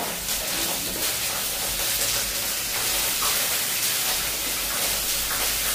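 Cumin seeds and bay leaves sizzle in hot oil, a steady, close, even hiss of frying that holds throughout with no talking.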